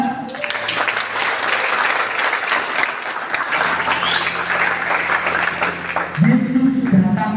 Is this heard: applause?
yes